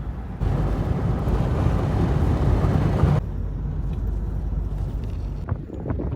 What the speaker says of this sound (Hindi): देखिए बहुत तेज से हवा चल रही है।